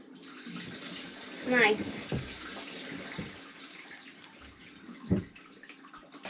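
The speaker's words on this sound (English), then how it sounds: "we're going to pull a hose from the deck through the window to fill this up" Water runs from a hose pulled through a window into a sailboat's water tank, a faint steady trickle and splash with a few louder clunks and brief spoken remarks over it.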